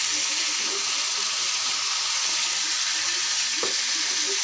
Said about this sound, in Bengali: চুলায় আমি তেল দিয়ে দিয়েছি কড়াইয়ে মাছটা আমি ভালো করে ভাজে নেব